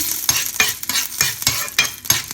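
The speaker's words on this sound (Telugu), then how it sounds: "రెండు ఎండు మిర్చి వేసుకుని ఫ్రై చేసుకోవాలి" Dried red chillies frying in oil for a tempering for Rayalaseema-style tur dal chutney, crackling and sizzling steadily with a rhythmic scrape of stirring about every third of a second, close and fairly loud.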